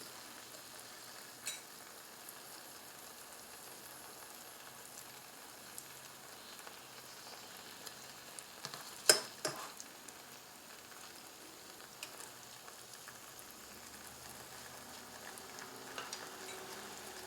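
Flounder browning in a pan for an Italian white fish stew gives a steady, quiet sizzle and fry, with a few faint clicks of utensils and one sharper tap near the middle.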